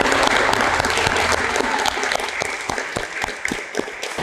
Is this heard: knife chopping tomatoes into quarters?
no